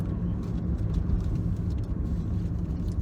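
Bus rumbling past on a road, a steady low engine drone close by with faint higher noise above it, continuous for a few seconds.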